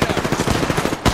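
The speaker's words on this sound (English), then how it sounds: "shots fired and they're hitting me!" Automatic gunfire in Apex Legends rattles in a fast, loud burst of closely spaced shots striking the player, close up, ending with a heavier hit.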